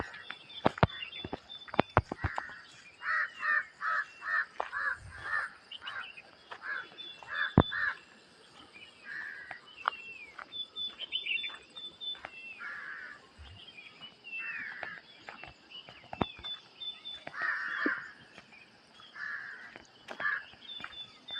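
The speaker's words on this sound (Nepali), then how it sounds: "अति सुन्दर चराचुरुङ्गीहरू कराएको मजा लाग्छ बिहान" Small birds call on a foggy village morning with scattered chirps and caw-like cries repeating at uneven intervals. Faint footsteps or taps sound in between, and the whole scene stays fairly quiet and outdoors.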